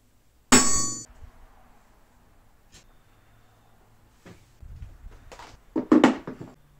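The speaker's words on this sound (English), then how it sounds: "first step is to center punch our mark" A center punch is hammered into steel to mark a drilling point for a modular sword forge, giving one sharp ringing metallic strike followed by quieter clinks and a final cluster of taps and clatter.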